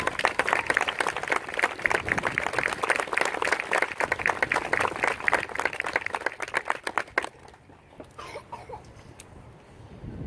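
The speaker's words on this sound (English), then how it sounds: "I want us to give them a round of applause for their equity in this quality." An outdoor crowd in the stands at an Air Force ceremony claps in a dense, sustained round of applause that fades and thins out after about seven seconds.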